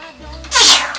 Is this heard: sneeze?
yes